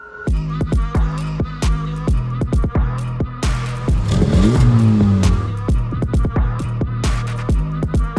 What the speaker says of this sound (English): under the hood, we've got the 2-liter turbocharged 4-cylinder, of course, that Honda has been known for in the Type R